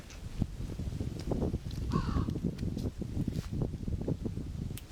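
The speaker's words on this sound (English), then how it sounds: "we found a DD crow" A DD crow caws faintly in the distance over steady wind and rustling outdoors at a mountain site, the calls brief and partly masked by breezy noise.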